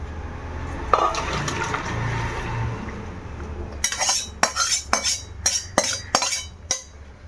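A cooking pot of Bengali tengra fish and bori curry is lifted off a gas stove after the flame is shut off, producing a run of close metallic clanks and clinks after a quieter stretch of low bubbling background.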